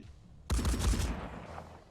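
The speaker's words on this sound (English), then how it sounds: "these guys are just firing blindly" A burst of gunfire in the tactical video game Phoenix Point, a loud rapid volley that starts abruptly and then fades away.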